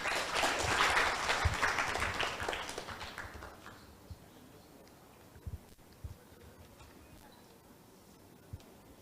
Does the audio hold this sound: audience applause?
yes